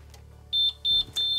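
A timer sounds during heat pressing of a rustic linen pillow sham, giving three sharp, loud electronic beeps in an even rhythm that ring out over a faint low hum.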